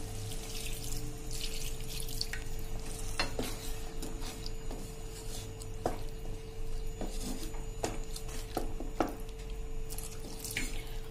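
Half a cup of water goes into a pan of ridge gourd and moong dal curry cooking in oil, bringing a sustained watery splash and trickle with faint sizzling and scattered drips.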